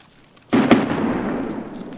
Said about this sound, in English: That's an impact grenade.